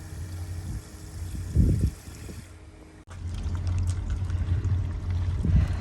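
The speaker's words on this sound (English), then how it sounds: "And I spy a water tap." Water runs from a campsite tap on a Scottish island, a low gurgling pour that rises, briefly breaks off, then resumes steadily with a soft rushing splash, close by and with no voices.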